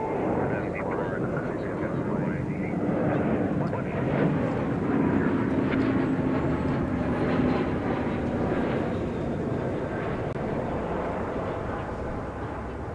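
An Airbus A321 airliner at DFW Airport roars steadily with engine noise for the whole stretch, sounding close and loud. Speech runs alongside it.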